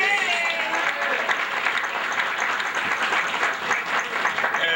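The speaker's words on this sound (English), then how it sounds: "I would like to just give another round of applause to Mr. Nutt." Applause from an audience at an evening awards and recognition ceremony: dense, even clapping from many hands that continues at a steady level for the whole stretch, with no voices rising above it.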